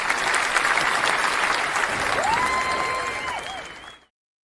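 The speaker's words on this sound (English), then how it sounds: "Round of applause." Audience applause at a live show, a dense steady wash of many hands clapping for about four seconds before stopping abruptly, with a few faint voices and a whistle-like tone mixed in.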